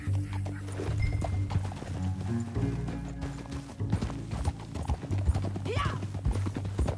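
Horse hooves clip-clop at a gallop in Red Dead Redemption 2, steady and close under continuous game music, with voices speaking over the ride and a brief whinny-like cry near the end.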